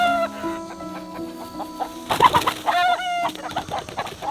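A hen in a farm nesting box clucks repeatedly in short rhythmic calls, close and fairly loud, with other chickens vocalizing around it.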